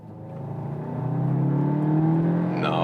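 A VW Arteon R Shooting Brake accelerating out of a corner, its engine note climbing steadily in pitch and growing louder over a few seconds, heard from inside the car with no talk.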